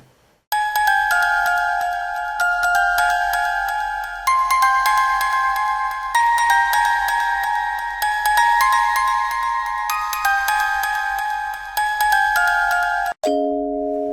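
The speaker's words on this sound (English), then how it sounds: "I play the notes. With a music box." A music box plays a bright, steady sequence of tinkling notes through a pre-build-up, repeating chord-like phrases for about thirteen seconds before a brief lower, softer tone at the end.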